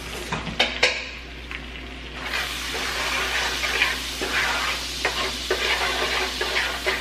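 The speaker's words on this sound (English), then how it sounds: "Add my cinnamon. And a little bit of salt. And then I'm gonna stir." Cinnamon and a little salt are stirred in a frying pan for fried pineapples: a few sharp metallic knocks, then a continuous close sizzle with scraping stir strokes throughout.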